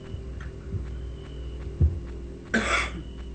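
A single short cough breaks through a quiet, low background hum, close to the microphone.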